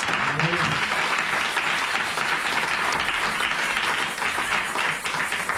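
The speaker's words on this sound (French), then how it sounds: "Acclame très très fort Jésus" A church congregation applauding loudly and continuously, dense sustained clapping from a large crowd throughout, with voices mixed in.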